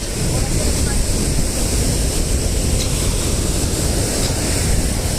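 Sea waves and surf roll in at Laboni Beach in Cox's Bazar as a loud, unbroken roar of breaking water, heavily buffeted by wind across the whole stretch.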